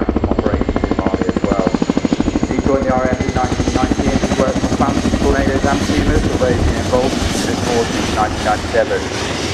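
A Royal Air Force Chinook HC.6A twin-rotor helicopter at an air display, heard as a loud, steady rotor thudding with engine whine that holds throughout, slowly shifting in tone as it moves.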